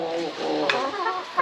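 Several chickens inside a coop cluck and murmur continuously, with a couple of sharper squawks poking out from the steady, close-up chatter.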